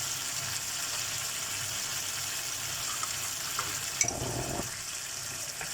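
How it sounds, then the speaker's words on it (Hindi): Beetroot chicken masala sautés in a pan with a steady, fairly loud hiss throughout, and a brief stir or clatter near the end, with no voices. "अभी इसको अच्छे से भूनना है।"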